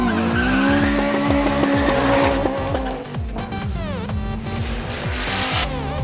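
A car spins its wheels at a drag strip, with loud squealing tires and a high-revving engine whose pitch rises and falls sharply, close by and continuous, with no voices.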